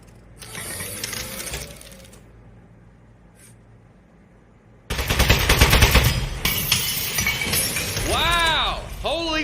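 Rapid mechanical gunfire from a turret in the video game Aperture Desk Job, a loud dense burst starting abruptly mid-clip after a quieter stretch, with whirring electronic chirps near the end.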